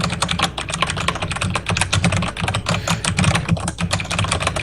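Loud mechanical keyboard with Thunder Keys being typed on steadily, a dense run of sharp close clicks across the whole stretch, heard alone without any voices.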